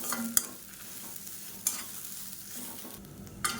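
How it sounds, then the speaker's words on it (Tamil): Grated coconut and coriander sauté in a pan, a soft continuous sizzle broken by three distinct scraping stirs of a spoon spaced about a second apart, close up with no talking. "இப்போ இதையும் சேர்த்து நல்லா வதக்கி விட்டுக்கலாம்."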